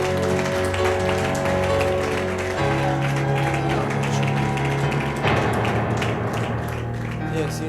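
A church congregation acclaiming Jesus with applause, a dense continuous wash of clapping and scattered taps filling the room, with voices and music running underneath.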